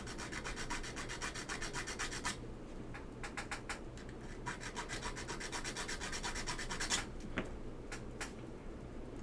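Hand filing of keyboard build parts for a stepped caps lock on a Geon Works F1-8x v2 with Alps SKCL Green switches, heard as rapid rhythmic rasping strokes, close and steady, with a few sharper scrapes near the end.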